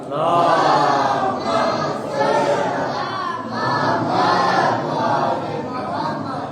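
Crowd at a religious birth-anniversary celebration chanting salawat slogans in loud, rhythmic waves of massed voices, several swelling phrases in a row, close and filling the space.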